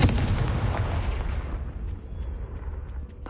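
Bombarda and Confringo spells in Hogwarts Legacy on PS5 go off as a loud, booming explosive blast that rumbles and slowly fades over a few seconds.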